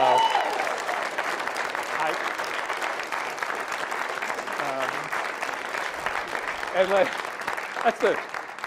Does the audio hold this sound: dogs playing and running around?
no